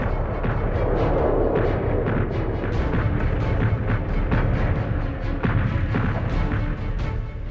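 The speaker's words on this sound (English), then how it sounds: "the eerie calm in the Allied trenches was broken by the heaviest bombardment of the entire First World War" A massed First World War artillery bombardment on the Western Front, a dense, continuous rumble of guns and trench mortars with overlapping booms and sharp cracks, loud and sustained.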